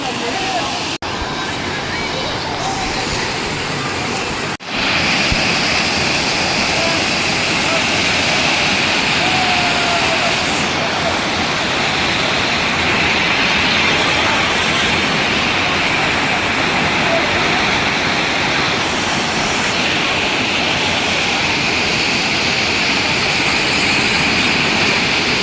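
Loud, constant roar of rushing water from the nearby Sundariya waterfall in Mirzapur, unbroken throughout.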